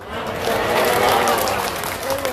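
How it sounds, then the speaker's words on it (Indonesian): A crowd at an Islamic religious lecture in West Sumbawa claps together in a dense, steady burst of applause, loud and close, with some voices mixed in. "Yang tepuk tangan yang jomblo aja"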